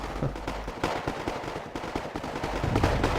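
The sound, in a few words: artillery piece firing repeatedly in a video game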